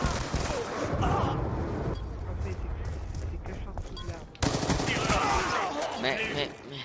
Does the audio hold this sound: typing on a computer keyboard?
no